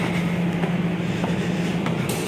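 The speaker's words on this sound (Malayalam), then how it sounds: "നല്ല തിരക്കുള്ള ട്രെയിനാണ്, തിരക്കുള്ള റെയിൽവേ സ്റ്റേഷനാണ്." A busy train at a crowded railway station in Madurai gives a steady, loud rumble with a low hum throughout.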